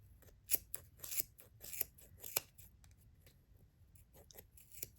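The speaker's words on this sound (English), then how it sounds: "Now you're going to cut the part that you just wrapped." Scissors snipping through wrapped yarn on a pom pom maker, a series of crisp, close cuts in quick uneven bursts that thin out toward the end, no talking.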